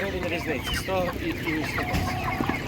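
Several chickens cluck and chatter close by at an animal market, a busy overlapping flock sound that runs throughout.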